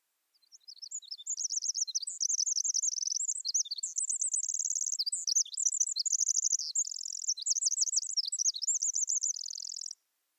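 A Pacific wren sings a long, continuous, high-pitched song of rapid trills and twittering notes, clear and alone against silence for nearly ten seconds.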